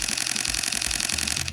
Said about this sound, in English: beautiful mechanical shutter sound.